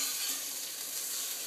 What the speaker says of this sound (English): I just saute this a little bit.